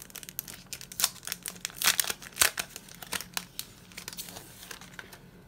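Crinkly, irregular rustling and tearing of craft paper packaging being opened by hand, a run of sharp crackles close by at moderate volume, with no talk.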